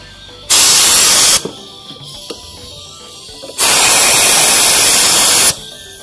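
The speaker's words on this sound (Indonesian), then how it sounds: "semprot dulu kotorannya biar hilang" Two long bursts of hissing spray, about a second and two seconds, clean dirt from the footstep of a Polytron Fox R electric scooter. The spray is loud and close, with a quiet pause between bursts.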